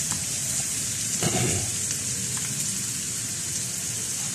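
Vegetables and pork with oyster sauce stir-fry in a hot pan, giving a steady, close sizzle and crackle with a brief clatter of stirring partway through.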